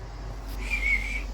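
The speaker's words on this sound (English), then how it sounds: "There's a whistle there." A single sustained whistle rises out of a quiet room during a paranormal investigation, holding a steady high tone for about half a second before fading, with no talking over it.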